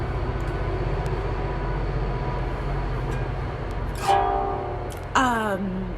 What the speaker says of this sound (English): I don't know if you can hear the train. I live near a train.